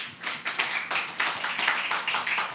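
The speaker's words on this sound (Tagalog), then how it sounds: "Pwede bang palakpakan natin ng Panginoon?" A church congregation clapping together, a dense, steady patter of many hands that carries on for a few seconds and shows no clear rhythm. No one speaks over it.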